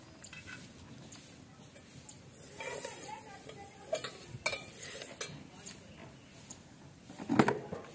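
Vermicelli roasts in ghee while a spoon stirs it, giving light scrapes and metallic clinks against the pot over a faint sizzle, with a louder clatter near the end. Someone speaks intermittently throughout.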